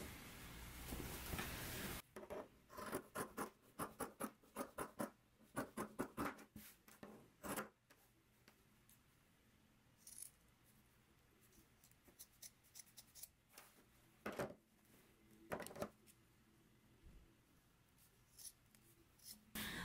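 Scissors trim a sewn fabric seam and clip its curves on a dress bodice facing, quiet and close: repeated short snips in uneven bursts separated by pauses, with light rustling between.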